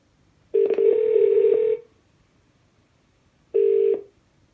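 A Google Home smart speaker places a hands-free phone call, giving two loud, close ringing tones: a long burst of about a second, a pause, then a shorter one.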